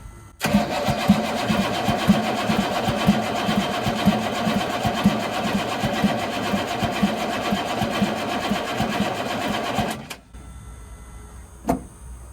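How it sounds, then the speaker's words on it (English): Starter cranking a 1983 Chevrolet squarebody 6.2 diesel engine that won't fire, a steady strong but slowish rhythmic churning for about ten seconds before it cuts off, then quiet with a brief click. "Starter sounds strong, but not like it spins it real fast."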